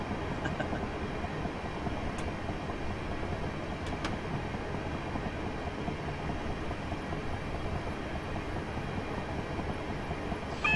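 A Class 375 train runs along the Chatham Mainline in Train Simulator 2016, producing a soft, continuous rolling rumble with a couple of faint brief clicks and no speech.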